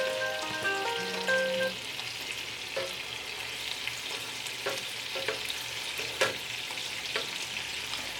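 Turkey meatballs sizzle steadily in a hot pan, a continuous frying crackle with a few sharper pops and clinks as they are turned, close and moderately loud with no talking.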